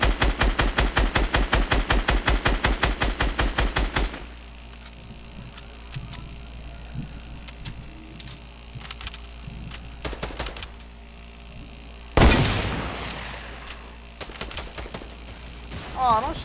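Video game gunfire, opening with a rapid, loud burst of automatic shots for several seconds, then scattered lighter shots and clicks, with another sharp burst later.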